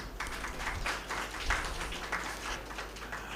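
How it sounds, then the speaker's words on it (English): An audience applauds at a literary festival book launch for a collection of poems and prose, with soft, uneven clapping heard at a distance against room hum. "A nice round of applause, please."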